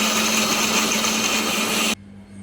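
A mixer grinder whirs loudly and steadily as it grinds spices, garlic, ginger and chilies, a high motor whine running alone for about two seconds before cutting off abruptly into quiet.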